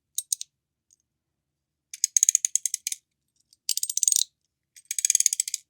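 Bursts of rapid, high-pitched mechanical clicking, like small magnetic pieces snapping and ratcheting, in several quick clusters separated by silence, close up, from a Pel-c Tita magnetic fidget toy.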